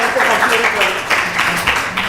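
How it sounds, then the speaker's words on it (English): A crowd at a Sunday feast applauds the Sunday school children, producing dense, steady clapping throughout that stays fairly loud and close, with a voice speaking over it. "a big round of applause to our Sunday school children"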